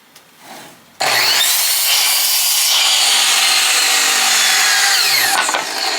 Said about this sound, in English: I'm going to cut it on the miter saw.